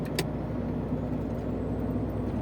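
Car travelling along a road toward Zaporizhzhia, heard from inside as a steady low engine and road rumble, continuous and fairly loud, with a brief faint click near the start and no talking.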